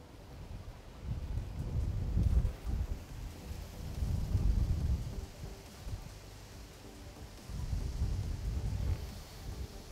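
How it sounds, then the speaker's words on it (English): Low, rumbling gusts of cold wind buffet the microphone in waves, rising and falling, beside a fishing lake. "how cold and windy it is"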